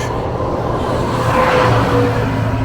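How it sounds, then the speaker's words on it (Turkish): Steady road traffic on a hot highway in Iran during a bicycle tour, with car engines droning and passing close by in a continuous, fairly loud wash of noise. "Çok trafik."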